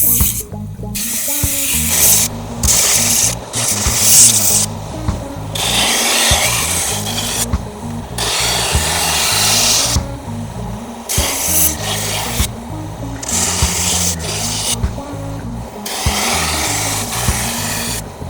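A slow-speed powered knife sharpener grinds a knife blade, giving a rough rasping scrape in repeated strokes broken by short pauses, close and fairly loud.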